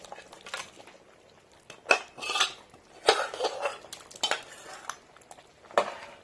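Cooked mutton is added into a pot of boiled lentils for shahi haleem, with several loud clanks and scrapes of a metal spoon against the pot, spaced irregularly over quiet background.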